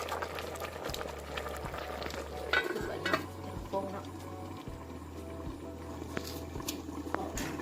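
Fish and enoki mushrooms frying in a pan, a soft bubbling sizzle with occasional clinks and scrapes of a utensil, close and moderately quiet over a low steady hum.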